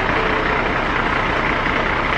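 Garbage truck engine rumbling steadily nearby, a continuous loud broadband drone with no breaks.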